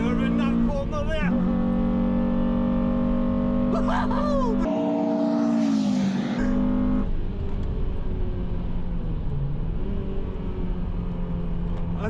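A rusty Honda Civic Type R at speed on a Formula One circuit, heard from inside as a steady engine drone with shifting pitch, road roar and brief whines, continuous and fairly loud.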